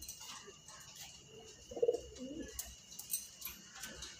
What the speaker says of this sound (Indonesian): Burung nggak bisa diem.